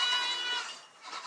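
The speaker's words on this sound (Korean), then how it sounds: "그때 또다시 나타난 염소." A black goat on a large goat farm bleats once in a long, loud, nasal, wavering cry close by, with no talk over it.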